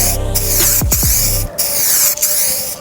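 A spray gun hisses out a first light clear coat onto a car body, steady close spraying in short bursts with brief pauses between passes.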